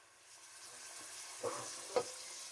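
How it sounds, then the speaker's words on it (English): Soft, steady sizzling of meat frying in oil in a pan for a Kenyan dish, with two brief louder clatters of stirring partway through. "Next bit is to fry the meat."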